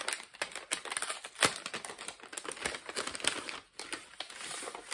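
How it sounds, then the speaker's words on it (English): Paper envelope being opened carefully by hand, a close, dense run of crinkling and tearing rustles lasting throughout, with no voices. "Get into this one without ripping the envelope"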